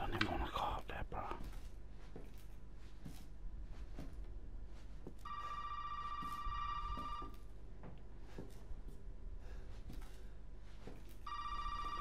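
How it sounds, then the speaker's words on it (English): Telephone ringing in the horror video game Resident Evil 7, two bursts of an electronic ring separated by several seconds of quiet, faint ambience with soft whispered talk. "Phone's ringing."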